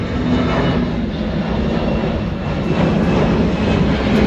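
An airplane passes low near an airport, a loud, steady broadband engine roar that fills the whole stretch with no pause.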